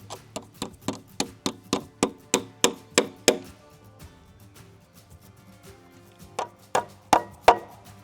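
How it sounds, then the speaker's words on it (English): Repeated hammer blows fixing metal hangers onto 2x6 lumber for a woodshed, a steady rhythm of about a dozen sharp knocks, a short pause, then a few more louder strikes. "he was hammering all those brackets on"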